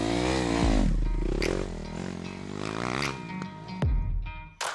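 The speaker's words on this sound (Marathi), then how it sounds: "शिवाने पण त्याची बाईक स्टार्ट केली" A motorcycle engine runs and revs up close, its rumble rising and falling before pulling away, with a few clanks along the way.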